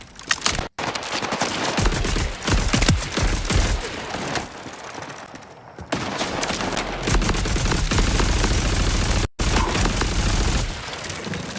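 Rifle fire in the video game Borderlands 4: dense bursts of rapid automatic shots with booming impacts, loud and nearly continuous, broken by two brief silent gaps.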